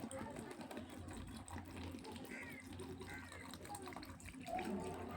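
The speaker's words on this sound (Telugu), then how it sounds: "ఇది ములిగే వరకు వాటర్ వేసుకోవచ్చు" Water is poured into mashed raw mango, a steady splashing fill running under a person's talk for about five seconds.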